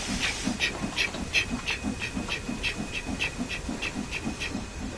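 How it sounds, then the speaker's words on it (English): Steam locomotive in Train Sim World 4, chuffing in a steady rhythmic beat with regular bursts of hissing steam over a continuous mechanical rumble, moderately loud and close, with no talking. "Love the sound of a steam train."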